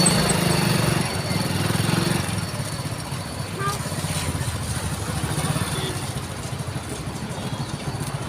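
Motorcycle engine running at a steady idle on a road ride near Chennai, a continuous low rumble with some surrounding traffic and wind noise.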